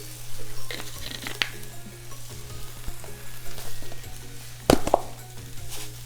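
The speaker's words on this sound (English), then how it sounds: "you're just heating the tuna up at this point" Tuna filling seasoned with dried parsley and garlic powder warms in a pan, a steady low sizzle running throughout with a few soft clinks and stirring scrapes, one sharper knock near the end.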